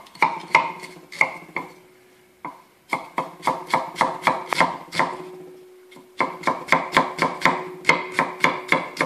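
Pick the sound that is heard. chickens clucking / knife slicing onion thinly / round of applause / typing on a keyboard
knife slicing onion thinly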